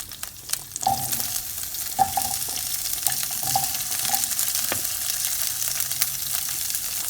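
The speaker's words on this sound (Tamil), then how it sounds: "வச்சுருக்க காய்கறியை சேர்க்குறேன்" Mixed vegetables such as drumstick and carrot tipped into a hot pan for sambar, giving a steady close sizzle and frying crackle with a few stirring clatters and no talk.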